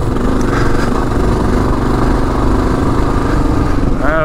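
A 2022 KLR 650 dual-sport motorcycle thunders steadily along a rutted off-road trail, its engine loud and close with a continuous droning note throughout, no voices heard.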